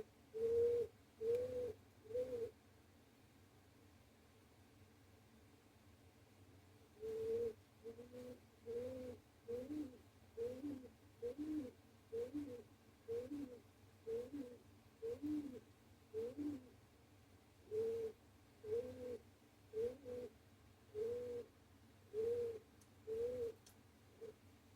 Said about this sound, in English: One of the birds is being a little talkative today,